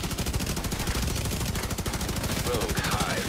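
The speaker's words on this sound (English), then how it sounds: "I like this carbine 7 because the rate of fire is pretty nice." Rapid automatic fire from a Carbine 7 rifle in The Division 2, a dense, steady rattle of closely spaced shots running the whole time, loud and continuous, with brief electronic tones near the end.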